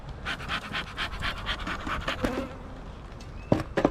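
Honeybees buzz around hive frames from a colony preparing to swarm, a steady insect hum close by, joined by a few sharp handling knocks and scrapes near the end.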